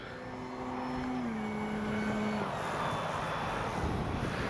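An FMS 1800mm Ranger RC airplane flying in to land, its propeller motor whine shifting pitch briefly before blending into a steady outdoor wind rush.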